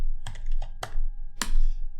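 Several bursts of keystrokes on a computer keyboard while coding, close and fairly loud, with uneven gaps between the clusters of clicks and no voices.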